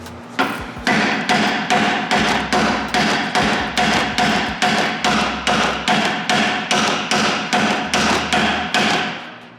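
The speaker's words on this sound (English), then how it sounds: "you're gonna have to hammer the ball joint to break it loose." Steady hammer blows knock a ball joint loose on a Chrysler 300 Scat Pack 392 front control arm, about twenty loud, close metallic strikes in an even rhythm across the whole stretch.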